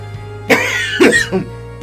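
Two or three harsh coughs in quick succession, close and fairly loud, over a steady low hum.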